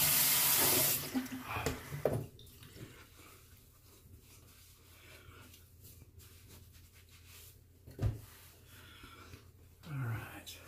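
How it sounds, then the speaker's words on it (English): Water running from a bathroom tap while rinsing off after a wet shave: a loud gush at the start, then a quieter steady flow with splashes and a few brief knocks. "Let me get rinsed off."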